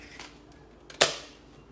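A single sharp gunshot from the Fortnite video game cracks out near the end, loud and close, preceded by a couple of fainter distant pops.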